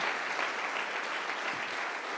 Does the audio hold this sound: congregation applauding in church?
yes